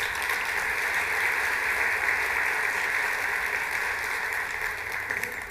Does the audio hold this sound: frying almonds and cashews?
no